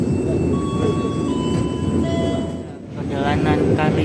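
Steady rumble inside a moving Blambangan Ekspres passenger train in Indonesia, with a low continuous rolling roar and faint high tones, dipping briefly before returning at full level.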